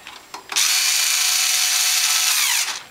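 A power driver spins 8-32 screws into a new premium base plate on a Norwalk juicer: one short burst, then a steady high whirring run of about two seconds, close and alone.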